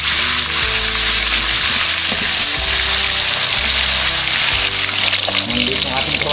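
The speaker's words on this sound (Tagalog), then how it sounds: "Iprito muna natin itong ating tilapia na napakalaki" Tilapia sizzles steadily in hot oil, a loud, constant crackle, with a voice talking over it.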